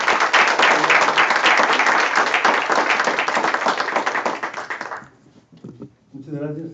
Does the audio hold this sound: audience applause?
yes